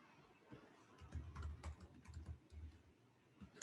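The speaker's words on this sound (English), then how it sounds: "I was a little bit too quick with my typing fingers." Rapid keyboard typing on a computer while adding text to a graphic, a close, busy run of clicky keystrokes with brief pauses, softly mixed with faint room sound.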